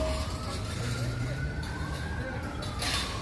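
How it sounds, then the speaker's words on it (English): Faint sirens wail in the distance across a busy Manhattan street between the Upper East Side and Midtown, a thin rising and falling tone under steady city traffic rumble. "And we can hear sirens out in the distance."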